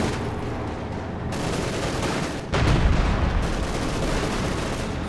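Heavy machine gun fire from DShK guns in a Company of Heroes 2 real-time strategy match, a loud, continuous, dense clatter with a booming burst near the middle and no talk over it.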